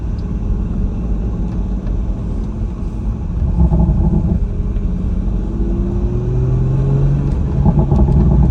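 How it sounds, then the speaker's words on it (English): A Morgan sports car set to Sport Plus mode on Yorkshire Dales roads, a deep engine and exhaust rumble that swells louder midway, with rising revs and no talking. "full poppy exhaust experience."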